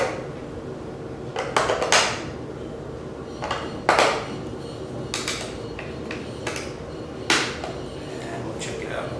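Rechargeable batteries go into a T-REX 100S kit's radio transmitter with a run of sharp, close plastic clicks and clatters, spaced irregularly over a soft steady hiss.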